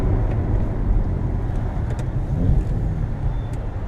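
BMW 335i with N54 engine and DCT gearbox driving in sport mode, a steady loud low engine and road rumble from inside the car, continuous throughout with no clear gear-change break.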